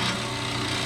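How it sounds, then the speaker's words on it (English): A wood-turning tool shaves a wooden blank while rounding it to a cylinder, taking off a quarter-inch cut; a brief steady, dense scraping hiss, close and loud. "I'm taking off a good clean 1/4 inch, getting some nice shavings."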